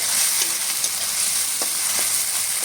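Spice paste with Kashmiri chili powder frying in oil for an eel fish curry, a loud, dense sizzle broken by a few scraping stirs, without any voices.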